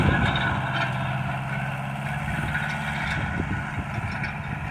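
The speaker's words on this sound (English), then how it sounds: "The tractor is running really good." A 1955 Ford 660 tractor engine runs steadily outdoors in southern Ohio, a close, continuous low mechanical drone with an even idle rhythm and no talking.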